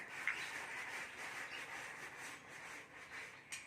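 Ducks quack faintly in the distance at an outdoor animal yard in the evening, a continuous low chatter of calls over soft background noise.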